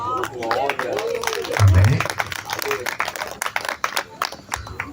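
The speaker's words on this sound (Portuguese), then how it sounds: "Aplausos para vocês." Couples at a church event are applauded by the audience, a brief burst of scattered clapping rising under a preacher's voice, with crowd murmur around it, heard at moderate volume.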